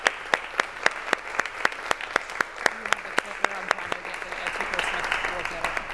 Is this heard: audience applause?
yes